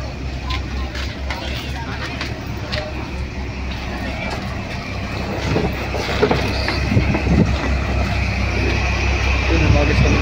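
A boat departing from Tingloy, Batangas, its steady low engine rumble droning throughout and growing slightly louder in the second half, with people talking nearby.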